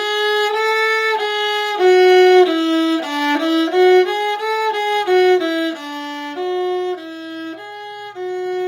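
A solo viola played with the 3-4 finger pattern bows a clean stepwise run of sustained notes, rising and falling in a steady rhythm. The tone is close, clear and moderately loud, with no talking.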